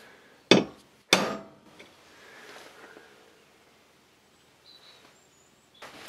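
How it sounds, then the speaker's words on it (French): A hammer drives a punch into a steel trailer chassis with two sharp, ringing metallic strikes close by, followed by a faint tap and quiet shop background. "on tape un gros coup de marteau dessus"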